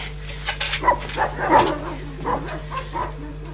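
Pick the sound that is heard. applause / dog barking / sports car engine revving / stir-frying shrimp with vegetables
dog barking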